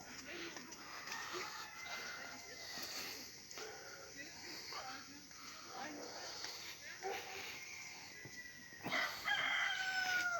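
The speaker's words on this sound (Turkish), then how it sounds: "Horoz ötüyor tavuk diyorum ben" A rooster crows in the distance amid outdoor background noise at Papazın Bağı in Ankara, with people talking nearby.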